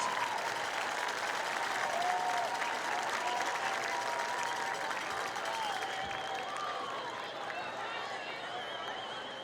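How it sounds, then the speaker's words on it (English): Crowd at a 2016 varsity high school football homecoming game applauding for homecoming candidates, sustained stadium clapping and cheers with voices and a few whistles, tapering near the end. "let's have a big round of applause for our 2016 candidates and"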